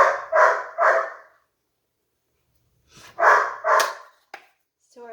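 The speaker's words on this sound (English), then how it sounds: "Sorry about the barking dogs." Dogs at home, an older one and a small one, bark loud and close in two clusters of three sharp barks separated by a pause, followed by a short yip at the end.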